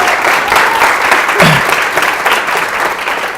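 Steady applause from a large audience at a speaking event, sustained and fairly loud throughout with crowd noise mixed in.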